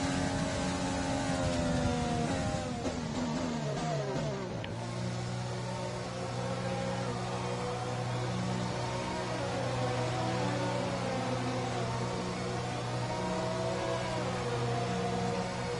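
A Formula 1 car in the F1 2020 video game enters the pits at Montreal, its high engine whine sliding down in pitch as it slows, then settling into a steady droning hum, loud and continuous.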